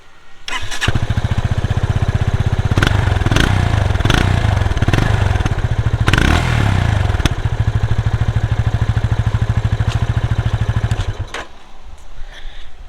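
A Yamaha FZ-S 250cc motorcycle engine runs loudly up close, idling in neutral with a deep steady thump and revved sharply several times before cutting off near the end.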